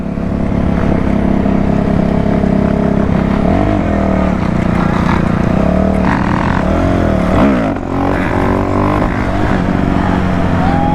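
A dirt bike engine revs hard and loud at midnight, its pitch rising and dropping as the rider hits the back brake, close and continuous throughout.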